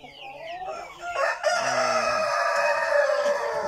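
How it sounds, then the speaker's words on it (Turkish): A Brahma rooster kept at home crows once, loud and close, in a long drawn-out call that follows a few clucks and stretches to the end. "Bu horoz."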